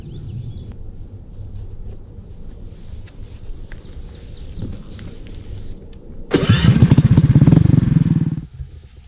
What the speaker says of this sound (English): In order to start the engine, there is a primer that can be pressed 3 to 5 times, depending on the temperature.